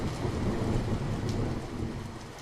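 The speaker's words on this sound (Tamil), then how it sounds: "மழை சத்தம் மட்டும்தான் அந்த இரவுல முழுக்க கேட்டுக்கிட்டே இருந்துச்சு." Steady rain falls through the night, a dense continuous wash with low rumbling thunder rolling beneath it and no voices.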